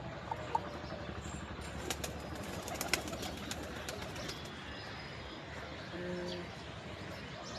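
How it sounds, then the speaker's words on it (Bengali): Pet pigeons coo softly in a quiet room, with faint soft rustles and small clicks around them. "এই দুটো কবুতরকেই শুধু বাইরে বের করেছি"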